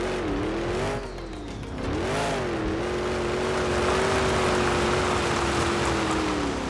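A monster truck engine in a video game freestyle run, droning and revving with a wavering pitch that rises and falls, loud and continuous over a rushing background.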